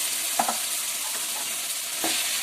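Steady broadband sizzle of chicken frying in a pan with ginger-garlic paste, with a few soft scraping stirs and clinks standing out over the continuous hiss.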